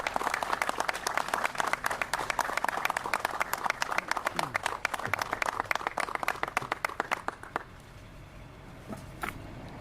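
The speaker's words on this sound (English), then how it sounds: "let's give a round of applause and a giant thanks to our fire chief, Chief Frederick." An audience applauds a retiring Louisville fire chief at a public ceremony, with dense, loud clapping that fades out after about seven seconds, leaving a quieter room with a few faint sounds.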